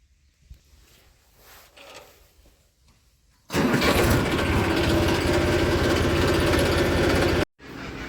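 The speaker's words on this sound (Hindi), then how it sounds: "फटाफट ट्रैक्टर स्टार्ट कर रहे हैं" A tractor engine cranks and catches after a few quiet seconds, then roars into a loud, steady, rattling idle close by, cuts out briefly, and picks up again.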